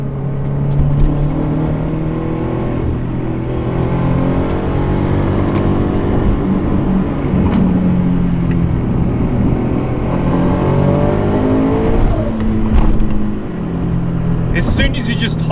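Turbocharged Subaru BRZ, Toyota 86 or Scion FR-S accelerating hard: a loud in-cabin engine drone rises steadily in pitch through the gears, with turbo whistle and excited talk over it.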